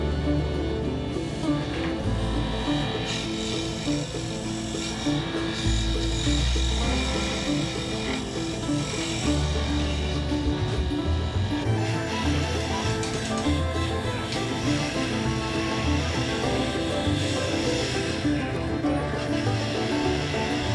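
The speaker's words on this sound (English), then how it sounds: "Wood turning was a lot of fun" Wood being turned on a lathe, likely while shaping the handle of a forged meat cleaver: loud, continuous scraping and rubbing with a whirring drone that shifts in intensity over about twenty seconds, with no talking.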